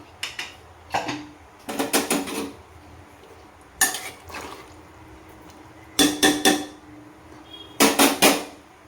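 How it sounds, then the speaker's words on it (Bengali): A lid set over a pot of thin chicken curry just finished with ghee, with the gas turned off: several bursts of close metal clatter and clinking, separated by short pauses. "এবার পুরো একটা চাপা দিয়ে দেবো।"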